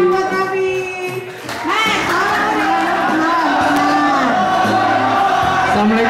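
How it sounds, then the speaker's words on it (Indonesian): An audience at a school alumni gathering cheers with loud whoops, shouts and overlapping chatter close by, with only light clapping mixed into the noisy crowd voices. "Tepuk tangan buat Rapi."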